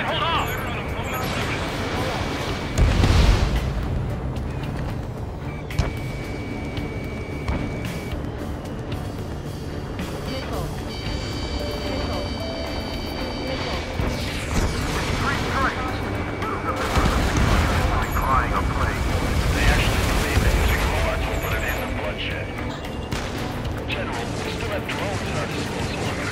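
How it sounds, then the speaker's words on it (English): Gunfire and explosions in the Ace Combat 7 jet combat game fill the scene, with bursts of shots and booms over a dense, continuous wash of battle noise, while radio voices talk throughout. "We're taking fire!"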